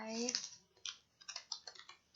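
Quick, light keystrokes on a computer keyboard entering an account name in accounting software, a short burst of close clicks after a brief spoken word.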